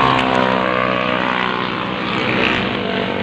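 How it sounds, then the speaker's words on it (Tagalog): Noisy tricycles and motorcycles passing in a Philippine neighborhood, a loud continuous engine drone with steady humming tones that stays close throughout. "Yung mga tricycle, yung mga motor eh, sobrang ingay ng mga."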